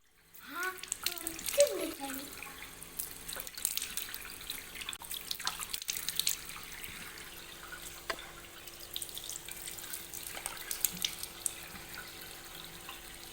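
Tap water runs and splashes into a sink as a face is washed, a steady watery wash with small drips and splashes, close and moderately loud, with a brief voice near the start.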